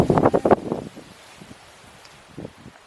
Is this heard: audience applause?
no